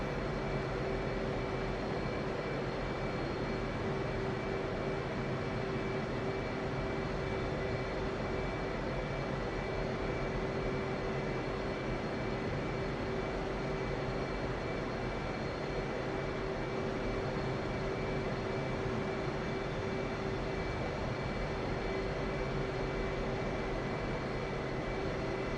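Aircraft engines hum steadily while taxiing in the DCS flight simulator game, a loud, constant droning whine with a sustained tonal note and no pauses or talking throughout.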